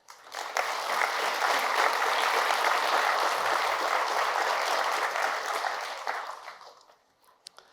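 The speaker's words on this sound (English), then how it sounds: "So first of all, a round of applause," Audience applause for a panelist at an ecommerce industry panel, a full, dense burst of clapping from a large crowd that holds steady for several seconds, then fades to quiet.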